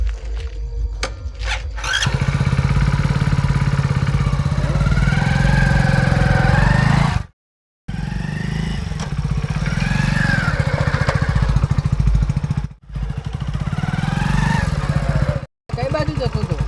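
A motorcycle engine runs and revs up after a couple of seconds, holding a droning, buzzing tone with brief cut-offs, while people talk over it.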